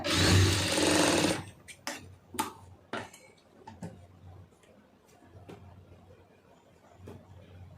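A sewing machine runs in a loud burst for about a second while stitching a folded patti joint, then gives way to scattered clicks and taps of handling close by.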